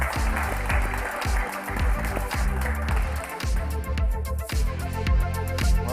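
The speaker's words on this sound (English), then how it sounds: "let's give him a warm applause to Mr. Derek Jonas." A conference audience claps warmly in a hall, continuous applause with music playing underneath, sustained and fairly loud throughout.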